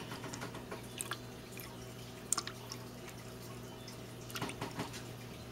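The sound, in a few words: water poured into a cup on a kitchen scale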